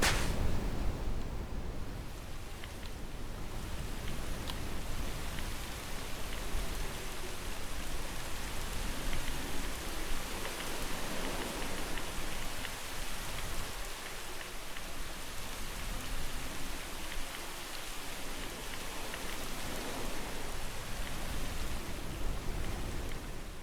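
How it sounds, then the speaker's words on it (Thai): Rain from a realistic sound mod for the video game Minecraft hisses as a dense, steady patter of drops on surfaces, continuous and full throughout with no talking. "และอันนี้จะเป็นเสียงฝนตกนะครับ"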